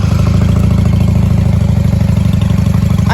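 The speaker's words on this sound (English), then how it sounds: "Let's go ahead and fire her up." A 1995 Honda Shadow VLX 600 motorcycle engine running steadily after starting without choke, with a loud, close, even idle rumble throughout and a brief rising tone near the end.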